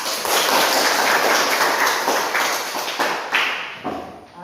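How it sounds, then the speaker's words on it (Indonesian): A classroom of children claps their hands together in quick, dense applause, loud and near, that holds steady and then trails off into a few scattered claps. "Tepuk tangan untuk kita."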